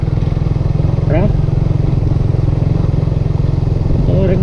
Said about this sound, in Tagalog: Ang source of transportation dito is motorcycle